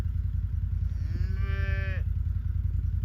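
A calf gives one drawn-out, rising moo at moderate distance, standing out over a low, steady rumble of background noise.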